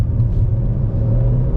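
An Audi A1 engine rumbles steadily up close as it accelerates, a low continuous drone with no voices over it.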